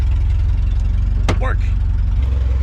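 A junkyard-assembled car engine idling very low, a loud, close, steady rumbling throb with a brief sharp click partway through and a person talking briefly over it.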